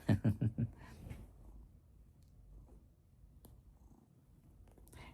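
A cat purring softly and close by, with a few stronger rhythmic pulses at the start before settling into a faint, low, steady purr against quiet room background.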